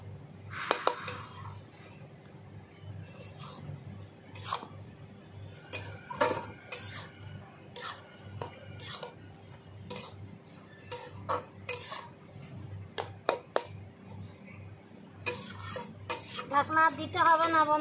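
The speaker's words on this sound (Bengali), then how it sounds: "এবার এইভাবে নাড়াতে নাড়াতে হয়ে যাবে শাক" Water spinach greens with poppy seeds being stirred in a pan, giving scattered clinks and scrapes of a utensil against metal, close and moderately quiet with a soft steady hum underneath.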